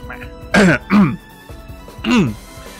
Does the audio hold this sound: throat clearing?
yes